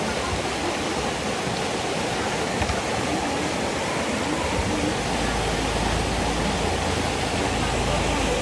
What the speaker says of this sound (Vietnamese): Nghe tiếng suối chảy róc rách.